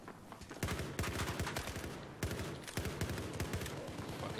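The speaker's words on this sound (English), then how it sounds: "I'm just gonna shoot so they come up here." Rapid bursts of automatic gunfire from the video game Battlefield 4, loud and dense, with repeated sharp shots fired in quick volleys throughout.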